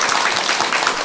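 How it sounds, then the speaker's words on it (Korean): A seated audience claps for a traditional Korean singer at a Buddhist talk event, a brief, dense burst of many hands applauding at an even level, with no voices over it. "박수 주셨어요."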